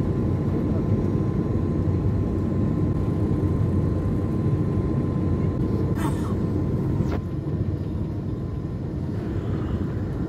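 Steady loud cabin rumble of an airliner touching down at Cairo airport, a broad continuous engine and airflow roar with a brief sharp clatter midway, no voices.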